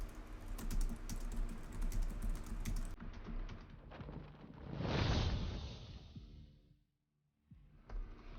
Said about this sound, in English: I'm just tweeting out real fast. Sorry if you can hear me clicking.